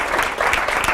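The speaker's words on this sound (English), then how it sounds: "Another round of applause for Gabriel" Audience applause for author Gabriel Thompson at a book event, a steady dense patter of clapping lasting about a second without a break.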